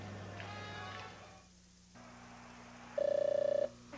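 A telephone rings through a Zenith television set, with brief tones and then a loud, steady electronic ring lasting under a second, heard close and alone after a short quiet gap.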